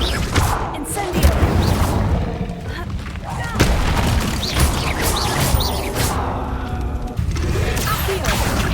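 Fiery bursts and booming blasts from the Incendio fire spell in the Hogwarts Legacy video game, several loud impacts at irregular intervals over continuous battle noise, with a voice speaking in places.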